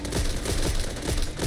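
Dense, rapid gunfire in Back 4 Blood, a loud continuous fusillade of repeated shots with no pause across the short stretch.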